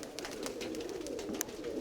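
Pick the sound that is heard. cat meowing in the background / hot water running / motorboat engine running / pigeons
pigeons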